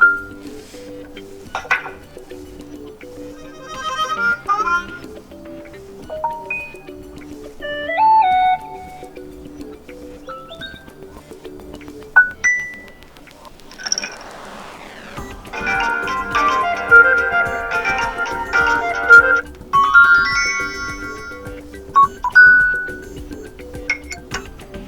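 An LG Velvet phone plays through its voicemail notification sound options one after another: short chimes, pings, beeps and jingly melodies, each separated by brief pauses, clear and close with no talking.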